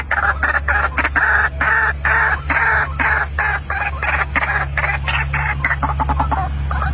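A captive albino white-breasted waterhen calling loudly and repeatedly close by, a rapid series of harsh clucking notes over a steady low hum.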